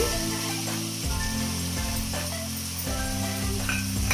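Tomato paste sizzles in a hot pan of chicken curry, a steady loud hiss of frying that fills the space with a low humming note running underneath.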